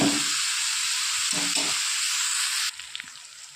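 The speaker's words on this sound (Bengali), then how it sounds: "ভালো করে নেড়ে চেড়ে একটু কষিয়ে নেব।" Small mixed fish are stirred and fried in a pan for a Bengali chorchori, giving a steady, close, bright sizzle with light stirring scrapes that quiets abruptly near the end.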